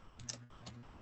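A few quick keyboard keystrokes, light and close, tapped in short separate bursts with quiet gaps between them and no voices.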